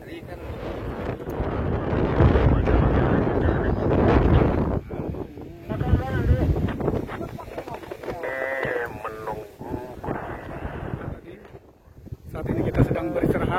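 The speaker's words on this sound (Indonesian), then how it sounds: "Saat ini kita sedang beristirahat menunggu angin yang kencang untuk reda." Strong wind on a mountainside, with roaring gusts buffeting the microphone that rise and fall across the whole stretch, while people talk close by.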